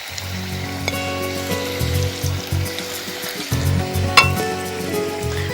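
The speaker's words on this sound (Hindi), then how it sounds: "मैं इन्हें फ्राई करने के लिए डाल रही हूँ" Kofta balls sizzling in hot oil over low heat, a steady close frying crackle with intermittent lower bubbling bursts and a few sharp pops, no talking.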